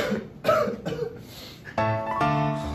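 Several harsh coughs in a row, close and loud, followed by a longer hacking cough with a rough, throaty tone.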